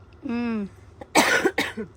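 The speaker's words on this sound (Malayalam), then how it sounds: "ചുമ" After a brief vocal sound, two sharp, close coughs come in quick succession, fairly loud.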